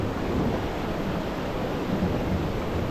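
River water on the McKenzie River churns and bubbles around a float, a steady low rushing wash heard close and fairly quiet, without speech.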